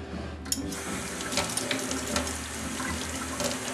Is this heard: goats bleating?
no